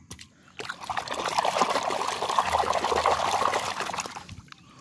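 Plastic toy animals are rinsed in water, giving a steady trickling, splashing wash that runs near and continuous for several seconds, without speech.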